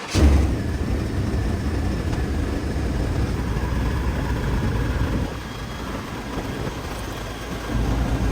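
Engine of an old Chevy OBS pickup truck idling in the shop to purge air bubbles from the cooling system while the coolant is flushed; a low, steady rumble holds for several seconds with no talking.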